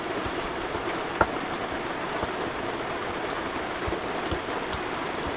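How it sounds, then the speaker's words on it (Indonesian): Heavy rain pours down in a dense, steady hiss, with occasional louder drops and splashes standing out from the constant wash. "Hujan ini nggak reda-reda ya teman-teman."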